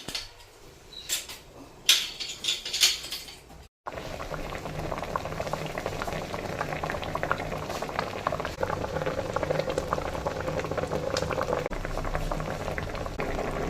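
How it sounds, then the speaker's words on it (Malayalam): Egg curry bubbles at a steady simmer in a pot over a low flame; after a few brief knocks and clatters, a continuous close burbling boil fills the rest. "ഇതിപ്പോ തിളച്ചിട്ടുണ്ട്."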